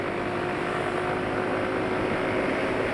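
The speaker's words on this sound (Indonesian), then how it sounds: "Suara mesin juga halus, nggak kasar-kasar banget." A motorcycle engine running on Eni i-Sigma SAE 40 oil gives a smooth, even, loud hum that holds constant, with no speech over it.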